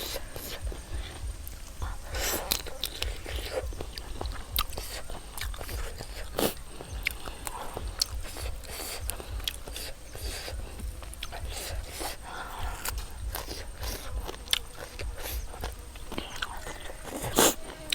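Crunchy bites and chewing of large cooked shrimp in spicy Thai papaya salad with fermented fish sauce, close irregular crunches and mouth sounds throughout, with soft murmuring.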